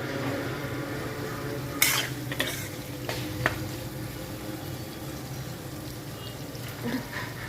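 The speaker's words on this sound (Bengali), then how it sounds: "এটা আলুটা কষা হচ্ছে" Potatoes stirred and sautéed in a pan give a soft, steady sizzle beneath scattered scrapes and clinks of a spoon against the pan, quiet and continuous throughout.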